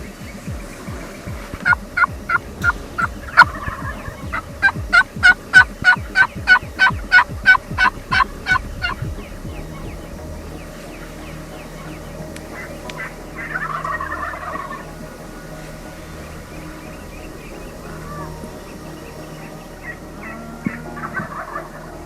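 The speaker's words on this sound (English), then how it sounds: "The gobblers are staying low." Wild turkey gobblers call during the opening day of Texas turkey season, in a group with a long beard and jakes. Loud rattling gobbles and rapid pulsing calls come in bouts, with another burst of gobbling later, all outdoors and without talk.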